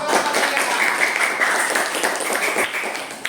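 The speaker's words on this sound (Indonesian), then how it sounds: "Ya, tepuk tangan dulu." Audience applause in a classroom-style gathering after groups present sermon scripts, a steady wash of many hands clapping at moderate loudness for about three seconds, with a faint tonal whistle or voice trace partway through.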